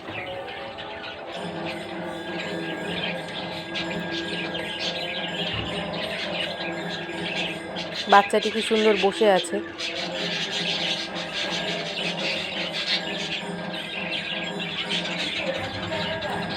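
Pet finches, white, yellow, blue and green birds in a home aviary, chirp and tweet steadily in a busy chorus, with a louder flutter of calls midway, while someone talks over them.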